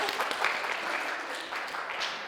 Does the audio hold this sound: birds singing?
no